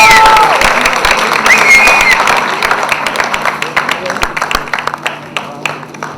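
Audience applause and cheering at a Bhojpuri film trailer launch, dense clapping from a large crowd with a loud start that gradually thins, while a voice speaks over it through a PA.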